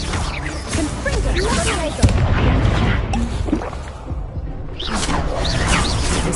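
Dense game combat from Hogwarts Legacy: Confringo spell explosions with booms and whooshes layered over continuous noisy battle sound, loud and close, with a voice calling out throughout.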